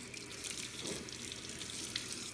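Tap water runs steadily over hair during a wash-day rinse, a continuous close splashing hiss with no talk.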